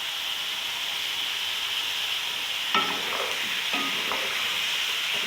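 Tomatoes and salt in a hot pan give a steady hissing sizzle, close and moderately loud. Two bursts of louder crackling follow when more goes in or gets stirred, and no voices are heard.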